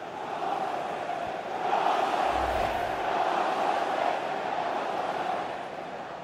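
A stadium crowd in a soccer video game, a Manchester City versus Paris SG Champions League match, roars steadily in a loud, continuous wash of cheering and chanting that swells briefly partway through.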